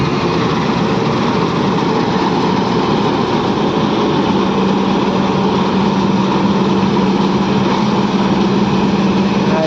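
A combine harvester's steady, loud engine drone runs without a break during wheat harvesting, a constant mechanical rumble with a faint higher whine mixed in.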